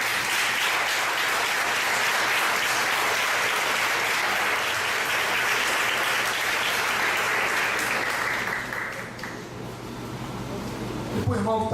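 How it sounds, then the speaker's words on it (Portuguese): A church congregation applauds in sustained, dense clapping that holds steady for several seconds and then tapers off, with voices heard over and around it. "Se você crê, aplauda ao Senhor."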